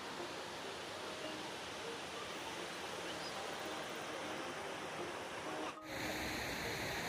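Water flows steadily through a stream at Panchavati Vana near Karwar, a continuous broadband rush that holds even throughout and sits close and moderately loud, with a brief dip just before the end.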